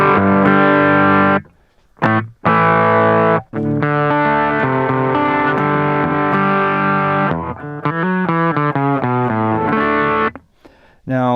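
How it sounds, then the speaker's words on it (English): Distorted electric guitar through a DIY pedal board's less aggressive distortion pedal plays sustained chords and runs, loud and close, with a few brief pauses between phrases. "So I have this set for like a distortion that's not quite as aggressive."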